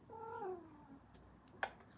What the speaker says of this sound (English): The kitty cat is enjoying looking out at the street.